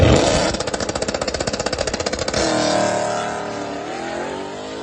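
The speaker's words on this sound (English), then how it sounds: "throw you a little clip up from my drag racing times" A Gen2-swapped S197 Ford Mustang roars loudly and close during a drag racing run, the engine pulsing in a rapid rhythmic burble before shifting into a smoother high rising wail that gradually fades with distance.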